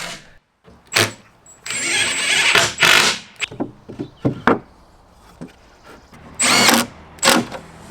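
Cordless power drill driving screws into a plywood cabinet base for a truck bed camper, several short loud whirring bursts separated by knocks and handling clatter, close up.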